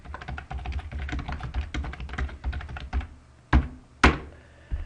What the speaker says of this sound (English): All you have to do is click right here into this text field and begin typing